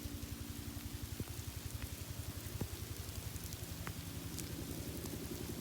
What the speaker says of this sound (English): that's the sound of rain putting out a very big fire